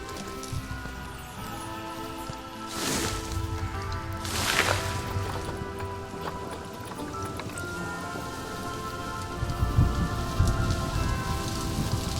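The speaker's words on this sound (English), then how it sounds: "It's still raining" Steady rain falls in the Planet Zoo video game, a dense continuous patter with a couple of brief louder gusts and a low rumble near the end, with no voices.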